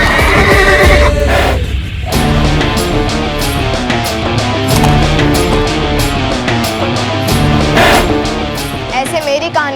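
A horse neighs loudly in a village setting, with a sharp whinny early on and another later, over a dense bed of music and background sound.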